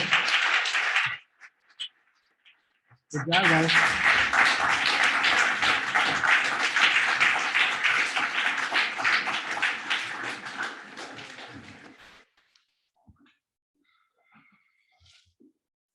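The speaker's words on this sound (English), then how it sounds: "round of applause" Audience applause at a magazine issue launch event, a sustained burst of many hands clapping for about nine seconds that tapers off, with a brief spoken remark beforehand.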